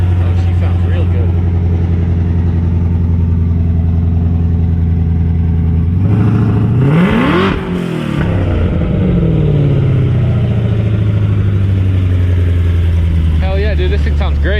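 A supercharged Coyote V8 in an F150 Lightning idles loudly, then is blipped in a sharp rising and falling rev before dropping back to a heavy, steady exhaust rumble, with voices nearby.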